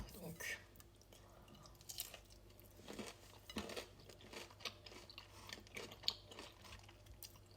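Someone eats crunchy curly fries with a sauce, giving soft, irregular chewing and crunching close to the mic over a low hum, with a faint voice in the background.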